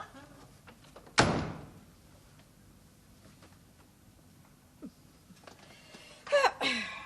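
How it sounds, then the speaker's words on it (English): A sharp, loud thump of a door shutting, followed by quiet room tone, a faint knock and a later rustling clatter. "Shut the door."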